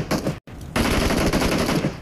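Rapid automatic gunfire rattles during a BGMI/PUBG squad fight. A short burst and a brief silence give way to a sustained, loud, dense stream of shots.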